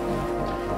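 Steady rain pours down in a GTA roleplay scene, a dense, even hiss of falling drops on surfaces that stays constant and fairly loud throughout, with no other sounds rising above it.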